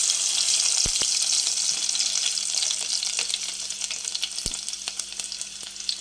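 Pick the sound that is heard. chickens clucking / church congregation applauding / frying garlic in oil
frying garlic in oil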